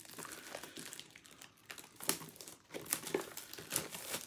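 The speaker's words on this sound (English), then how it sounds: "bear with me for a second while I get this plastic off of here" Plastic wrap crinkles and tears as it is pulled off a Pokémon Darkness Ablaze Elite Trainer Box, a close, busy run of crackles and sharp rips with no voices.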